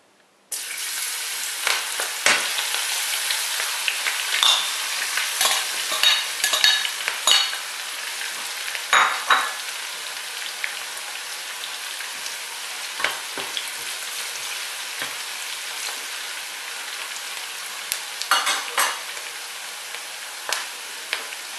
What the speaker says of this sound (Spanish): vamos a hacer el crujiente de puerro